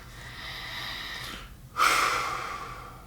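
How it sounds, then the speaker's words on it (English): Slow deep breathing as a calming exercise: a long soft inhale followed by a louder, rushing exhale, close and alone with no talking. "3 or 4 times, deep breaths, and count, 1 in, 1 out."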